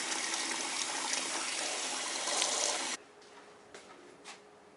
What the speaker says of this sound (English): It's a little cold, run a little extra water.